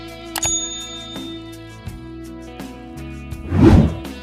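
A single bright, ringing bell ding sounds early over soft steady background music, followed later by a brief noisy swell.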